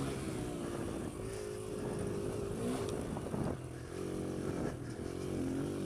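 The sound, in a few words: Kawasaki KLX140L dirt bike engine running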